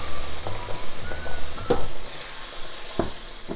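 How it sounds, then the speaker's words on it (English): Cooked moong dal goes into a hot tadka, giving a steady sizzle with a few sharp spoon clacks against the pan while it is stirred, loud and close. "Now we're adding our cooked moong dal."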